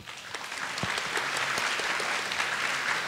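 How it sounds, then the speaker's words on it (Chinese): An indoor audience at a 2017 panel event applauds, with steady clapping that swells quickly and holds at moderate loudness for a few seconds. "我们掌声欢迎杨总。"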